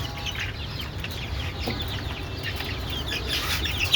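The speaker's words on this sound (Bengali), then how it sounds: "এই যে মুরগিগুলো দেখেন সবগুলা" Chickens at a small poultry farm cluck faintly and intermittently over a steady low background rumble, with no talking.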